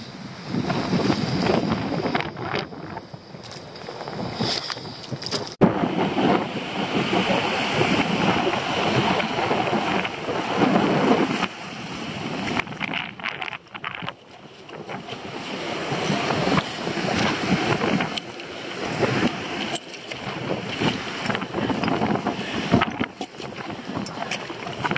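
Strong wind roars steadily against the microphone on a rocky shore where green ormers (abalone) are gathered, with the rush of surf and waves mixed in for the whole stretch and no speech.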